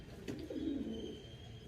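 Pet pigeons give one soft, low coo close by, with quiet background hum and no talking.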